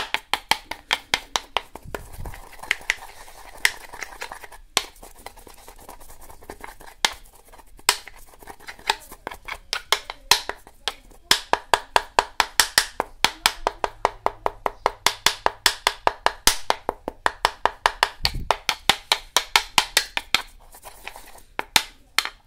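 Dry ginger powder and spices pounded by hand, giving a long run of sharp, evenly spaced knocks, close and distinct, that speed up into a steady rhythm with brief pauses between runs.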